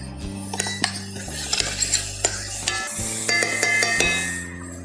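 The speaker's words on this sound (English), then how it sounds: "we're going to be adding some chopped onions and some chopped celery. Saute this" Chopped onions and celery are sautéed in a pan, with a spoon clattering and scraping against the metal in quick, sharp knocks over a soft sizzle.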